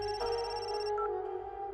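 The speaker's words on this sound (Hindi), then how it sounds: "सभा का फोन आ रहा है।" An incoming call rings out as a bright, tonal phone ringtone with a short melodic pattern, clear and fairly close over quiet room noise, with no talking.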